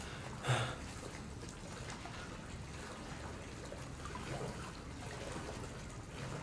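Running water trickles and splashes continuously in the horror video game Resident Evil 7, a faint, steady liquid wash with a brief louder splash near the start.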